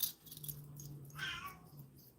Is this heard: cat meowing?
yes